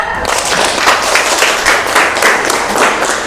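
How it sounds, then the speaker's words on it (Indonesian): A classroom of students claps for a classmate named Surya, a loud, dense wash of many hands close by that holds steady for a few seconds with no talking. "Boleh tepuk tangan buat Surya"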